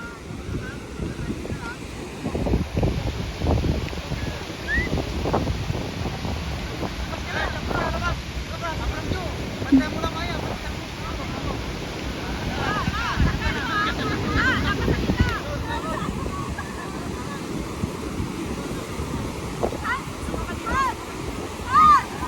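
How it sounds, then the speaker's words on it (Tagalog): Wind buffets the microphone over a constant wash of waves and water, with people talking intermittently underneath. "lakas ng alon kasi ang lakas ng hangin."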